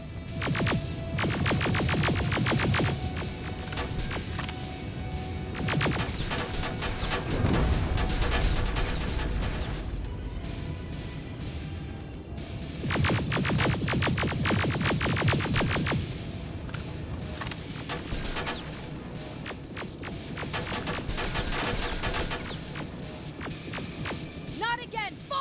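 Sustained automatic gunfire in the video game Terminator Resistance rattles in long loud bursts with short pauses between them, a constant mechanical throb underneath and voices talking over parts of the battle.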